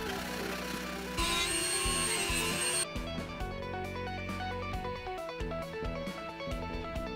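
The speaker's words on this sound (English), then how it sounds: "Then in the end I was sanding and polishing the edge." A Dremel rotary tool whirs continuously at close range, sanding and polishing a plastic edge on a hollow guitar body, its pitch shifting as it works against the hard edge, with no talking.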